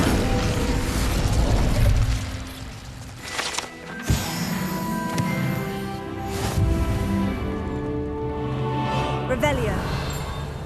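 An Incendio fire spell erupts in the Hogwarts Legacy video game as a sudden fiery burst, set among mechanical clanks, booms and background game music, with a voice heard nearby.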